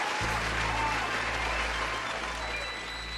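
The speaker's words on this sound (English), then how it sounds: "How about another round of applause?" An audience at a live show applauds in a loud, continuous wash of clapping with a low hum beneath it, staying steady throughout.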